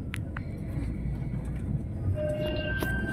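A city tram rolling along its rails gives a steady low rumble, with faint metallic squeals and thin ringing tones rising near the end.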